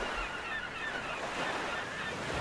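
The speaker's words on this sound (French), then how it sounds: "le vent souffle contre le bateau, les vagues se soulèvent" Audio-drama effect of waves and wind buffeting a small boat on the sea at nightfall, a continuous dense roar of surf and gusts with steady loudness and no voices.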